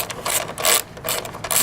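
Close, quick clicking bursts from a ratchet as a bolt on a lawn mower is loosened while removing the carburetor compartment, several short rhythmic strokes in a row.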